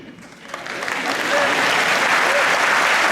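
Audience applause at a Slovenian live comedy show, starting thin and swelling within a second into loud, steady clapping from a full crowd that continues to the end.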